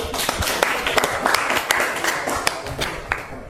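A classroom audience claps in brief, uneven applause, with sharp, close hand claps over a murmur of voices.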